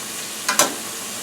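Onions and garlic brown in a pan for vegan sautéed French-cut green beans, giving a steady close sizzling hiss broken by two quick scraping stirs.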